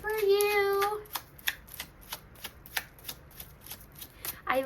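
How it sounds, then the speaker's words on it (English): Tarot cards being shuffled by hand, a burst of voice at the start and then a series of crisp, evenly spaced riffling slaps and snaps close up, quiet between each. "Let me shuffle this good for you."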